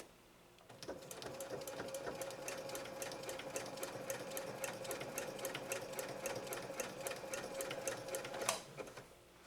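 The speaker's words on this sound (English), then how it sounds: "now we're going to lay down that super long, super wide zigzag, and we'll take a look at the stitching" A Janome 3160 QDC sewing machine stitches a long, wide zigzag, a rapid, even mechanical chatter of needle strokes running for about eight seconds, then stopping abruptly.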